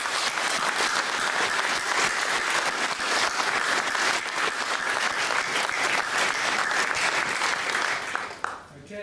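An audience at a meeting applauds, a dense, loud, sustained clapping that holds steady and then tapers off abruptly at the end.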